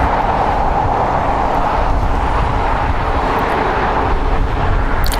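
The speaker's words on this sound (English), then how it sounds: "This is Asiana Airlines Flight 286 coming up from Seoul. It's a 10-hour, 59-minute flight on a Boeing 747-4 freighter." An Asiana Airlines Boeing 747-400 freighter arriving at LAX from Seoul, a loud, continuous broadband engine rumble dominating throughout, with no one talking.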